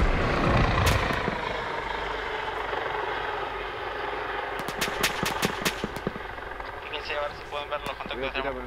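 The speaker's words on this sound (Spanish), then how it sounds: "¿Vehículo eso que escucho?" A vehicle engine drones in the Arma 3 military game, a steady broad rumble with sharp distant cracks of gunfire crackling through, while voices talk over radio-style chatter.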